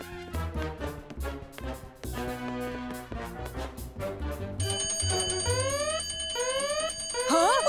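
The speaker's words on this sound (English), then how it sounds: "It's probably just a fire alarm test." A fire alarm in a cartoon, rapid bright electronic ringing over busy background music, growing louder toward the end with no talk.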